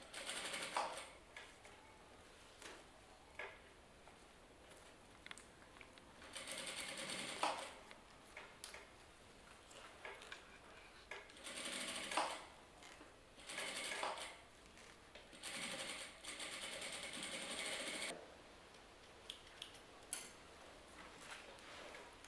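Sewing machine stitching a corset seam, repeated short runs of fast mechanical whirring at a soft, moderate level, with a backstitch at the start and quieter gaps between runs.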